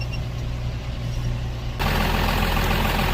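A farm tractor and backhoe are driven close by, a loud steady diesel engine drone that abruptly jumps to a heavier, louder roar partway through.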